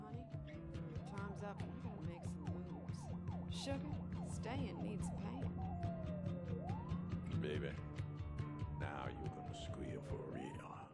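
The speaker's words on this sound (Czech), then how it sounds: "To nám prostě museli říct, že tam jsou hlasité policejní sirény." Loud police sirens in the driving game Driv3r wail and sweep continuously through the whole stretch, several overlapping wails rising and falling over a steady engine-like drone and game noise.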